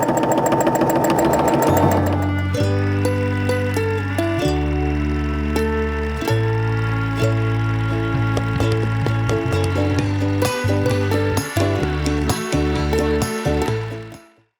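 A sewing machine quilts a mug rug, its motor humming loud and close with rapid needle clatter in bursts of shifting speed, stopping and starting, then winding down at the end.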